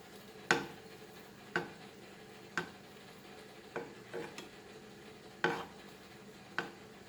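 Spoon stirring thick kadhi curry with kitchen king masala in a pot, a series of about seven scraping clinks at roughly one-second intervals over a soft steady simmer, close and moderate.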